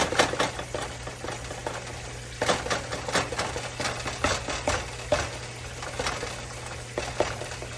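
Quick, irregular tapping and clicking as holes are tapped into pork ribeye before seasoning, a dense run of light taps over a low steady hum, close and moderately quiet with no voices.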